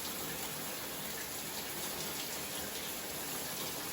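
Shower water runs steadily, a dense even hiss of spray hitting a surface that continues unbroken for several seconds before stopping suddenly. No one speaks.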